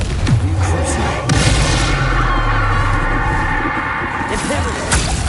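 A Confringo fire spell blasts in the Hogwarts Legacy video game, a loud booming explosion with whooshing bursts amid continuous combat noise, under a dense, busy game soundtrack.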